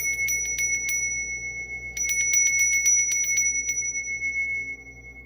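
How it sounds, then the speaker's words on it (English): A small bell is rung in quick bright bursts of rapid metallic dings, a flurry at the start and a longer run after a pause, close and clear over a low steady hum. "Let me ring my bell"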